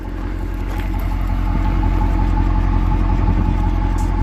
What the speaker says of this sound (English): The car's idling right now.